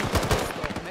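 Rapid burst of automatic machine gun fire from an armored vehicle in Arma 3 Antistasi, several quick, loud, close shots in a tight rhythm over about a second.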